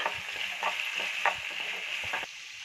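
Cucumber and garlic fry in a pan with a steady close sizzle, broken by a few stirring scrapes, and no talking.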